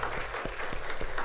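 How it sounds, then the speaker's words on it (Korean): Applause of encouragement from a university chapel congregation: steady, moderately distant clapping from a crowd, sustained throughout with a few sharper individual claps. "우리 격려의 박수 하겠습니다."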